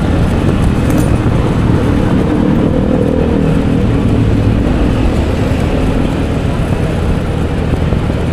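A truck rumbling along a road at night in Tanjung Morawa, a continuous loud low engine and road drone with no breaks, heard from close behind.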